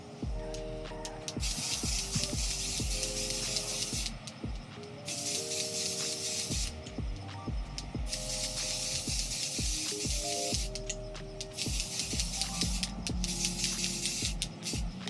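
A coat of spray is applied to a tumbler in bursts of steady hiss lasting a few seconds each, separated by short pauses and light clicks and handling noises.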